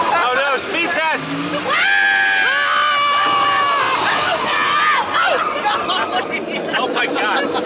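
Riders scream loudly aboard the Test Track ride at Walt Disney World, joined by whoops and cheering over continuous ride noise, filling the whole stretch without pause.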